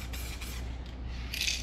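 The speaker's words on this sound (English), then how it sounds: "And I'm gonna spray a little bit" A spray can hisses softly and steadily close by while painting a motorcycle, ending in a brighter burst at the end, with no talk.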